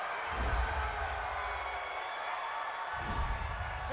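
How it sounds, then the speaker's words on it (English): A home stadium crowd at an NFL game between the Denver Broncos and Los Angeles Chargers roars after a penalty call, a loud continuous cheer that dips and swells again, with speech mixed in. "This home crowd, they're happy with that call."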